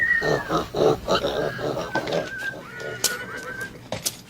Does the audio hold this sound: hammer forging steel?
no